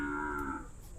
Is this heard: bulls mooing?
yes